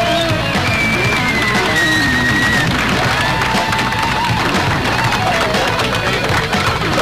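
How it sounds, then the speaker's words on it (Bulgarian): Crowd applauding and cheering at the Rally Hebros 2002 awards ceremony as the winning crew receives prizes, a long, dense wash of clapping and shouts, with a faint whistle-like tone drifting above it. "аплодисментите дълго не стихваха"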